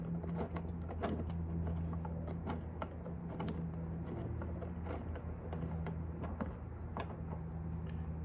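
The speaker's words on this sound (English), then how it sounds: "we have our 10 millimeter socket right here, and we're gonna go ahead, tighten that down." A 10 millimeter socket on a ratchet tightens a bolt while fitting ditch lights to a 2024 Land Cruiser 250, giving a run of quick, light ticking clicks at close range with a low steady hum underneath.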